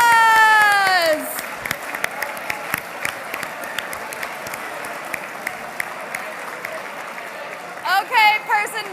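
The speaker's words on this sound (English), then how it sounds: "Each other a round of applause." An audience at a graduation and keynote event gives a round of applause, a steady mass of clapping that follows a brief musical tone and ends as a sound cue returns.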